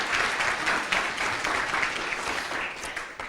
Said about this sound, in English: let's give them again another round of applause